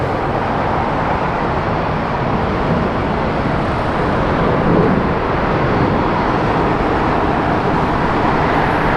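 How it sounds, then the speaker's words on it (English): A United Dreamliner airliner taking off at LAX, a broad, steady engine roar that stays loud and constant the whole time with no talking. "Got the United Dreamliner taking off here."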